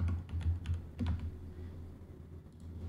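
Computer keyboard keys clack in a quick burst of typing, then settle into softer scattered taps, recorded close with no one talking.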